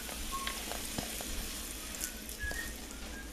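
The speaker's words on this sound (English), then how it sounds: "Hear it sizzle." Cornmeal batter sizzles steadily in hot oil in a skillet, a soft continuous frying hiss with small pops and crackles throughout, heard close but fairly quiet.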